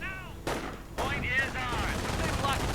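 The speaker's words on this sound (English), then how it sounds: "needs to learn, you know, not to just hang about in front of her machine gun fire like that" Machine gun fire in a World War II strategy game: sharp bursts of rapid gunfire sound under a busy battle mix, with a loud volley starting near the middle and fainter shots and whistles around it.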